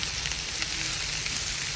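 Jowar grains tipped into a hot tempering of oil and red chilli for a Gujarati khichdi, giving a dense, steady sizzle close by with no voices.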